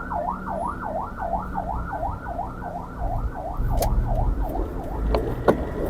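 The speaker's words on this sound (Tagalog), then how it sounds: "paunahin natin yung ambulansya" Wailing ambulance siren sweeping up and down in a steady rapid cycle, loud and close, over the rumble of traffic on a Manila boulevard, with a few sharp clanks mixed in.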